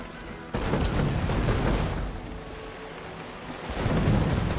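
Naval ships bombard a city in Civilization 5: Gods and Kings, heavy booming blasts with a rumbling, thunder-like roar that bursts in loudly, sustains, then swells again near the end.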